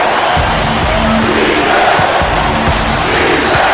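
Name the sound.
crowd cheering after a dunk in NBA 2K13 video game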